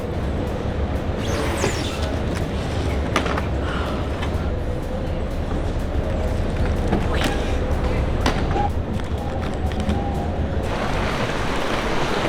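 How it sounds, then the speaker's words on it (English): Heavy pouring rain falls outdoors at an airport arrival area during a travel day, a steady dense wash of noise throughout with occasional brief clatters and a faint voice in the background. "It is pouring out here"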